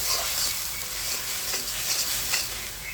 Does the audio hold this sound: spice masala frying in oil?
yes